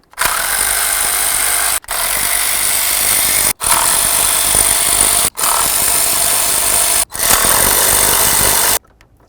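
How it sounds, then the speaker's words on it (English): Power tool with an inverted torque socket removing oil filter and cooler housing mounting bolts on a 5th generation Caravan, five loud sustained whirring bursts separated by brief pauses. "So now let's remove these mounting bolts. To do that, we're going to use an inverted torque socket."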